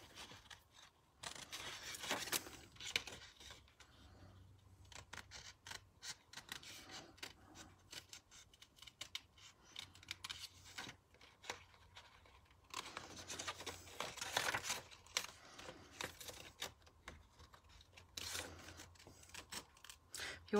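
Tim Holtz scissors cut through paper for a stamping project, giving quiet, close snipping and crisp rustling in several bursts separated by near-silent pauses, with faint low background hum.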